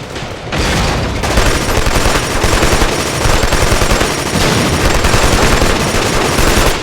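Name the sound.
gunfire in the video game Killzone 2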